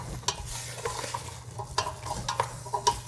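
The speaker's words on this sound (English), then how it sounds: "I'm going to put these pre-peeled and pre-cut sweet potato chunks in here. I will just give these a stir." Sweet potato chunks, pre-peeled and pre-cut, are stirred in a pot with a spoon, giving several scraping clunks and knocks over a low steady hum, close and moderately loud, with no talking.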